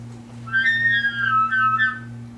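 A person whistles a high, shrill rising-and-falling call imitating an elk bugle, about a second and a half long, over a low steady hum.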